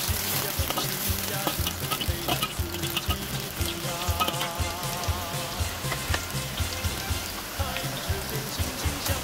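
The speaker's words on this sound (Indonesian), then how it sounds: "sekarang kita tumis jamur hyoko sampai wangi" Shiitake mushrooms stir-fried in a pan for a vegetarian lo han chai dish; a dense, continuous close crackling sizzle with rhythmic stirring scrapes and no talk.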